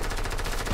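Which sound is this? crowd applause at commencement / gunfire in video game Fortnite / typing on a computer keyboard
gunfire in video game Fortnite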